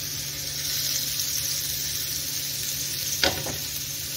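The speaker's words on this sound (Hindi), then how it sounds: "तो हमें दोनों तरफ से इसी तरह फ्राई कर लेना है।" Brinjal slices frying on a tawa griddle over low heat give a steady, even sizzle throughout, with a single brief clatter of a utensil near the end and no talk.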